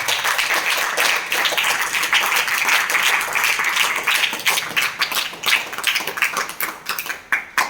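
Thunderous applause from an audience opening a mathematics session: continuous, close, crackling clapping that holds steady, then thins into looser, more distinct claps toward the end.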